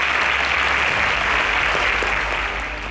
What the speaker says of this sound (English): A round of applause for all our super SPAKs.